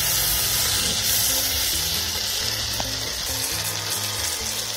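Chicken with soy sauce hisses and sizzles loudly in a pan, a dense continuous frying sound with stirring scrapes and no talk.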